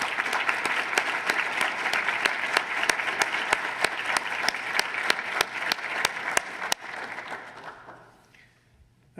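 Audience at a neurosurgeon's installation ceremony applauds in a hall, a dense steady clapping that carries for several seconds, thins out and fades to near silence at the end.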